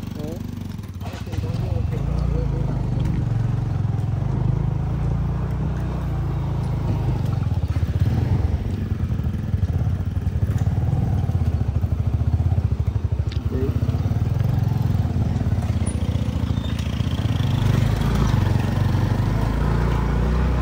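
A motorcycle engine drones steadily throughout, mixed with road and wind rumble, while a voice talks over the ride.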